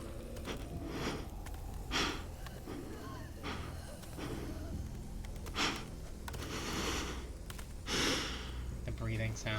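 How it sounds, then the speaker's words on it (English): Ragged breathing from a character in The Walking Dead: The Final Season video game: a string of gasps, sniffs and heavy breaths rises and falls every couple of seconds over a steady, rumbling game background. "The breathing sound."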